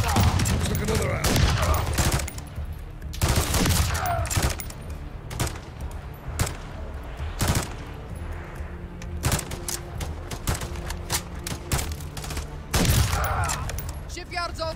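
Video game gunfire: repeated bursts and single shots at irregular intervals throughout a shipyard firefight, loud and close, with voices talking between the volleys.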